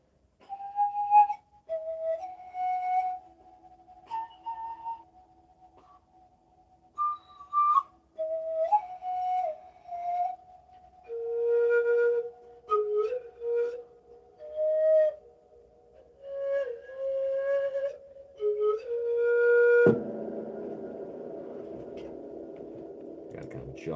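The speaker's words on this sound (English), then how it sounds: "Including the pan flute." A breathy pan flute plays a slow improvised melody of held and sliding notes with short pauses between phrases. A dense, noisy synth pad swells in near the end.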